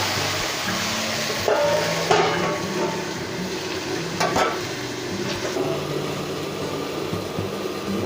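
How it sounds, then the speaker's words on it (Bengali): Okra with coconut frying on a low flame while a utensil stirs it now and then, giving a steady soft sizzle with light scraping and a few clinks, close by and with no talking. "নাড়াচাড়া করে হালকা ফ্লেমে, অল্প লো ফ্লেমে একটু ভাজা ভাজা করে নেব।"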